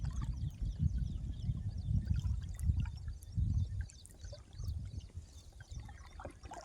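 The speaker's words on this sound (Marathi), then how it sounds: "वडे नदी नाल्याला आलाय पूर" A flooded stream flows and trickles nearby, its low rushing water rising and falling in uneven surges with faint splashes above.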